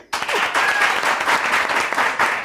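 Sudden burst of audience applause in a studio, dense and loud, sustained through the moment.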